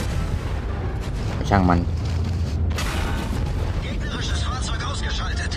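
Tank cannon fire in the game World of Tanks Blitz, a few heavy booms over a constant engine rumble, while a player talks over it.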